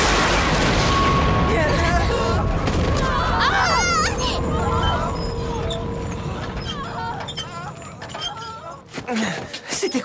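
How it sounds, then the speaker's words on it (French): A deep, heavy explosion boom in the Attack on Titan anime, a broad rumbling roar that fills the scene at first and slowly fades away, with scattered rattling and crackling debris noises trailing after it. "C'était quoi? Une explosion?"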